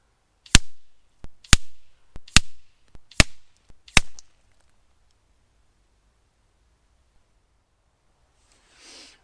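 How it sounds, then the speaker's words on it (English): Five sharp air rifle shots from an FX Impact M3 fired at a paper target, evenly spaced about a second apart, each a crisp near crack with a short tail, followed by silence and a faint rustle at the end. "gonna shoot the rest of the target"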